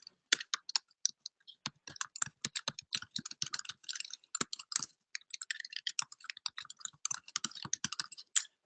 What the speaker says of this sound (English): I'm going to make sure I type in my description.